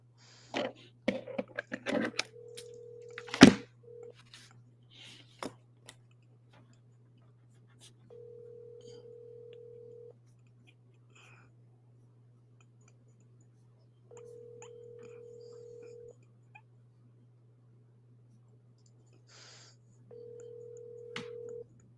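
A telephone call is placed, with a quick flurry of clicks and taps at first, then a repeating ring tone sounding in evenly spaced long pulses over a quiet low hum.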